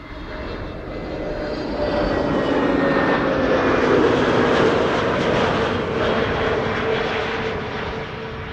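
An Airbus A320neo jet landing at Amsterdam Schiphol on a sunny morning, arriving from Geneva, its broad engine roar and whine swelling up and holding steady as it passes fairly close, then easing slightly, with no voices.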